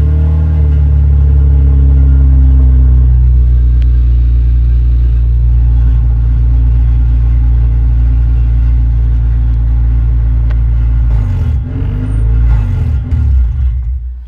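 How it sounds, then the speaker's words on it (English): A Honda Civic fitted with a swapped-in H2B engine idles roughly and unevenly, a steady loud low-pitched rumble close by that wavers and dips toward the end. "with this ECU it does that ugly idle."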